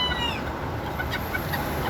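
Bantam chickens eating banana cluck in short, soft bursts close by, over a low background hum.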